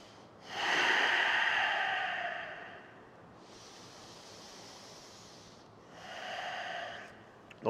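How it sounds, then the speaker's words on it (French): Slow, deep breathing during a hatha yoga session: a long audible inhale, a pause, then a softer exhale that starts another breath, close and steady with no talking. "Quelques respirations."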